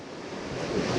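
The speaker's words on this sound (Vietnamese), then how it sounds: "Dưới này là một con sông rất là to mọi người ạ." A very large river flows past in a broad, steady rushing wash that swells slightly toward the end, with no voices over it.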